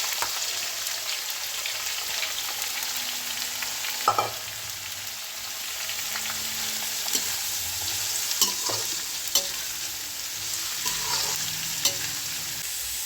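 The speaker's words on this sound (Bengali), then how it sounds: "লবঙ্গ ফাটতে থাকে, তাই জন্য পেঁয়াজটা দিয়ে দেবো।" Onions with cardamom, cinnamon and cloves frying in hot oil for a coriander chicken dish, a steady moderate sizzle with occasional soft pops and stirring clinks.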